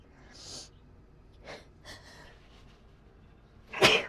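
A single sharp sneeze bursts out near the end, preceded by a few quiet breaths and sniffs in a quiet indoor room.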